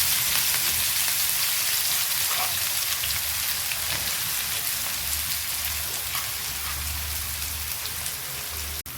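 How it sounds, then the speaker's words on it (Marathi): Green spring onions fry with cumin in hot oil, a steady dense crackling sizzle held at an even level throughout with a low hum beneath. "तर हे हिरवे पाले कांदे आपण तेलामध्ये छान असे फ्राय होऊ द्यायचे"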